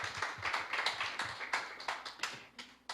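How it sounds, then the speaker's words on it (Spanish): Congregation applauding in a church service, a few hands clapping in quick uneven bursts, fairly quiet and close, without much crowd roar. "Démosle un aplauso al Dios vivo."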